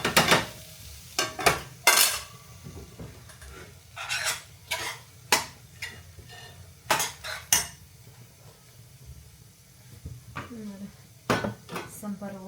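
Dry sambharo vegetable relish is shifted aside in a pan with a spoon, giving sharp metallic clinks and scrapes in irregular bursts, some loud and close, with quieter gaps between.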